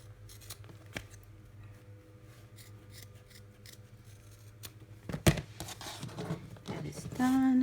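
Scissors snipping fabric to round the corners of an embroidered softball bag, a few close, crisp cuts with rustling cloth in between, and a person talking quietly beneath.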